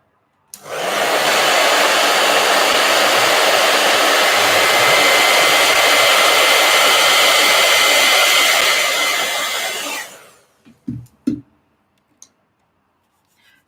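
A heat gun blows hot air over a colored-pencil page, a loud steady whoosh that starts abruptly, holds for about ten seconds, then cuts off, followed by a few small clicks and taps.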